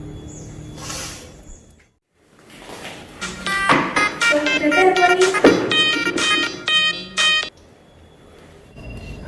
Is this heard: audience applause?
no